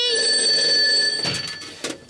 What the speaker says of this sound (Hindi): फोन उठाओ भाई